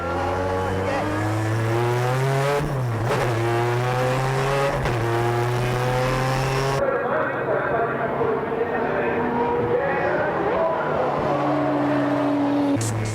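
Tuned Nissan GT-R race cars run flat out through a final corner on a circuit, engines droning loudly and steadily with rising and falling pitch as they pass close by.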